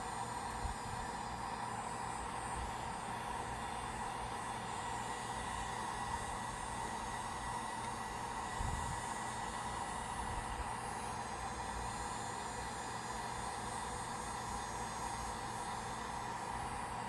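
A heat gun warms an old bicycle chainstay guard near the rear wheel, giving a steady, continuous blowing whir with an even airy hiss throughout and no speech.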